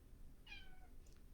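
A cat gives a single clear, drawn-out meow at close range in a quiet indoor room, followed by a few faint soft sounds.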